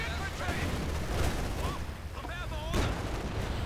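Gunfire and explosions in the Company of Heroes 2 strategy game, with booming artillery-like blasts and rifle fire layered over a dense battle din, alongside chirping unit sounds and a voice talking throughout.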